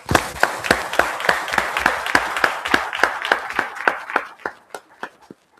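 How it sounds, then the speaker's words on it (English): A small audience at a Black History Month event gives a speaker one more round of applause, heard as sparse, distinct claps in a loose rhythm that thin out toward the end. The clapping is fairly close and moderately loud. "one more round of applause"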